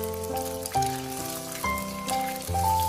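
Eggs frying and setting in a hot pan in a home kitchen, a soft, steady sizzle running beneath prominent melodic background music with sustained notes.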